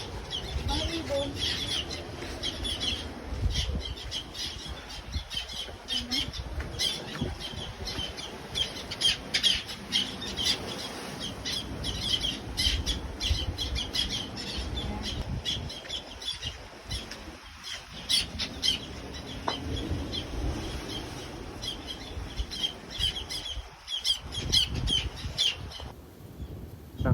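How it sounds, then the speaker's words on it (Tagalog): Many birds squawk and cluck continuously in Northern Samar, Eastern Visayas, a dense, noisy chorus of harsh calls with flapping wings, fairly close and steady throughout, with no speech. "Mga ibon."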